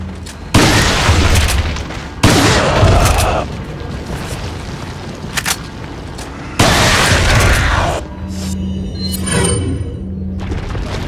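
Repeated loud shotgun blasts from a pump-action shotgun in the video game Resident Evil 4, each booming shot followed by a decaying tail, with several spaced discharges and lighter game sounds in between.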